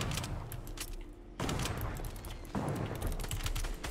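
Fortnite Battle Royale gunfire crackles through a dense, steady in-game mix, with sharp bursts hitting around the middle and later stretches; no voices.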